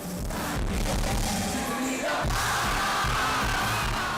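Fans at a concert erupt in loud, sustained cheering and yelling, a dense roar from a big crowd that holds throughout.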